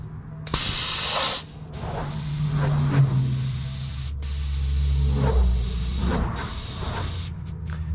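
A CO2 tank hisses while inflating a truck tire: a sharp loud burst of spray at first, then a steady hissing rush with low rumbling surges that holds close throughout, with no speech.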